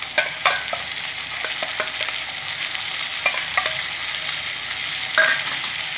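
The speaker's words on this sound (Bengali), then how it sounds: "এটাও ভালো করে নেড়ে যাবে যতক্ষণ না পেঁয়াজের কাঁচা গন্ধ দূর হয়।" Ground onion paste stirred and fried in a pan for a curry, a steady close sizzle with scattered clinks and scrapes of the spoon against the pan, no voices.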